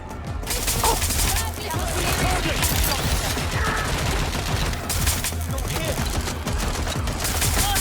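Sustained, dense gunfire from a Watch Dogs: Legion firefight rattles on nearly nonstop, loud and close, with overlapping bursts and a few brief dips in the barrage.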